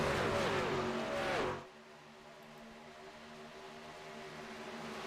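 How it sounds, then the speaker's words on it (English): Racing trucks in the Wallbanger Racing Truck Series at a speedway, a loud, close engine roar with a rising pitch sweep that drops away sharply to a steady distant drone as the single-file pack heads into a turn. "Long single file train of trucks heading back into turn number 3"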